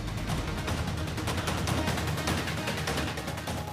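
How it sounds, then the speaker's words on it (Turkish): Firecrackers burst in a dense, continuous crackle of rapid pops, loud and close throughout with no pauses. "Teyze maytaptan o kadar mı korkuyor?"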